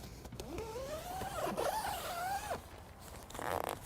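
A zip on a large camping tent's U-shaped door runs along its track in one long continuous pull with rising and falling pitch, close and clear, followed by a short rattling scrape.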